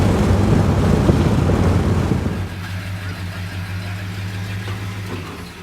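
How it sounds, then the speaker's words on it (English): A 1965 Pontiac Bonneville fitted with a new Edelbrock carburetor in place of a tired Carter AFB drives along. Its engine rumbles loudly under heavy wind buffeting at first, then settles into a steadier, quieter drone. "Tom's first drive with the new carb."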